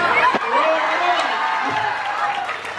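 A crowd at an engagement celebration claps steadily through a party guessing game, a dense, continuous patter of hands under loud talk from people nearby.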